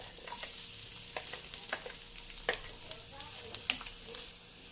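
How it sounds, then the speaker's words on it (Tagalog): Chopped garlic sautéing in olive oil in a pan for miso sinigang, a soft continuous sizzle with small crackles and a few clinks of a utensil stirring, close and moderately quiet. "Ito yung bawang. Unahin ko na yung bawang."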